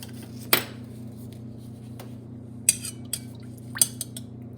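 Metal spoons are picked up from a kitchen counter for tasting, making a few sharp isolated clinks and taps spaced apart over a steady low kitchen hum, with no talking.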